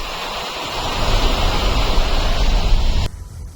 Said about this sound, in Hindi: ऊपर से पूरा झरना बह रहा है।